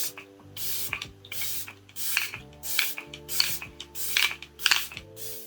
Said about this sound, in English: All right, let's do a bit of setting spray.